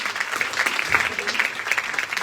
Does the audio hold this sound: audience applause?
yes